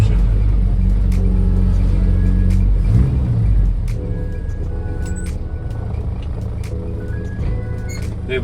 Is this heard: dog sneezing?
no